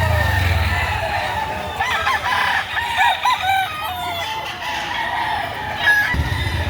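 A Kalawan rooster crows loudly and close by at a chicken market in Lipa, Batangas, one long drawn-out call with rising and falling notes over a background rumble.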